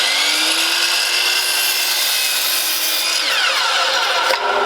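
A compound miter saw runs at full speed through a 22.5 degree bevel cut in wood, giving a loud, steady whine with rasping cut noise that winds down at the end, followed by a brief clunk.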